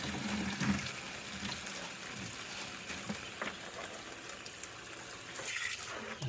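Water sloshing and washing material around in a gold pan during processing of dug material from a gold mine, a steady close swirling gush with small splashes, no talking.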